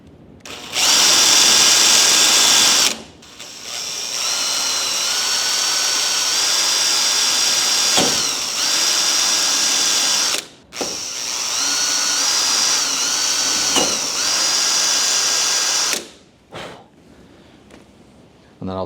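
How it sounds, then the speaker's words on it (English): Power drill boring through a car bumper during an RB200 build, several loud sustained whining bursts with brief pauses between, speed wavering as the bit cuts, then tapering off near the end. "So I'm just going to drill through the bumper"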